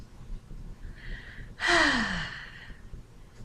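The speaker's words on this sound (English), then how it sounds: "Now take a deep breath in and out." A deep breath taken during a calming tapping exercise: a sharp, audible inhale followed by a longer, breathy exhale, close and clear, with no talking.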